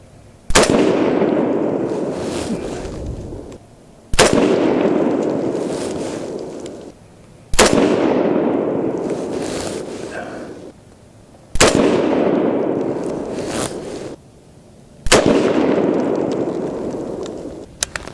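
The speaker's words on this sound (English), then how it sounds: "four of those five shots were almost encouraging" A custom AR10 fires handloaded .308 Winchester rounds outdoors: five loud, sharp shots spaced a few seconds apart, each followed by a long, fading echoing rumble.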